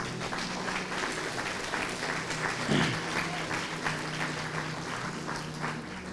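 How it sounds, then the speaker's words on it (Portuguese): A church congregation applauds for Jesus during a Portuguese-language service, a steady, dense wash of clapping that fills the room throughout, with a brief voice rising through it near the middle. "Vamos aplaudir a Jesus?"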